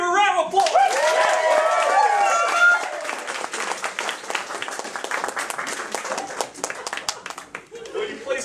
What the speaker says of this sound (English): Will you all give her a round of applause?